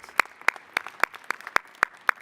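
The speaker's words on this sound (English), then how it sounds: "maybe a round of applause to everybody who came out" At a social enterprise pitch competition, a lone pair of hands claps in an even rhythm, about eight crisp close claps spaced roughly a quarter second apart, with a quiet room around them.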